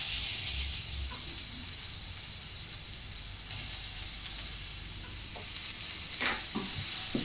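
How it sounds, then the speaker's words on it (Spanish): Garlic and onion with a pinch of salt fry in extra virgin olive oil in a pan for a patatas bravas sauce, making a soft, continuous hiss and sizzle with a few stirring clicks toward the end and no voices. "Cuando empieza a dorarse, incorporamos la cebolla y una pizca de sal."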